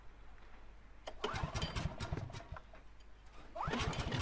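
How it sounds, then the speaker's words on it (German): A vehicle engine being started in The Last of Us, a mechanical cranking burst that catches around the midpoint, settles into a running rumble, then surges louder near the end, heard up close with no talk. "Wir müssen den Motor irgendwie einschalten"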